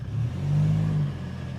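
A modified 2025 Toyota Hilux GR Sport with a 2.8-liter engine pulls away in four-wheel-drive high on a camp trail. The engine gives a low, steady hum that swells briefly as it accelerates, then settles, heard from inside the cab.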